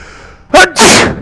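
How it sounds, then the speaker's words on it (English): A single loud, close human sneeze, a sharp intake followed by an explosive burst, heard over video game play. "Wait a minute, I gotta sneeze in just a bit."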